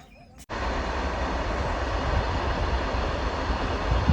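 A train rumbles past close by, a steady loud roar of wheels and cars starting abruptly and continuing throughout.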